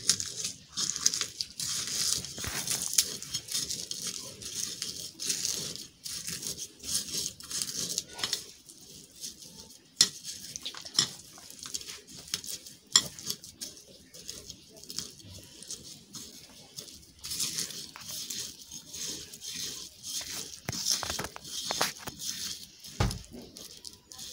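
Close, uneven squishing and crinkling as charred eggplant mash ingredients, fried chopped onion and fried dried chillies, are mashed and mixed by hand with salt, coming in short irregular bursts.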